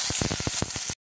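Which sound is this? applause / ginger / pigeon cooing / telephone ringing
ginger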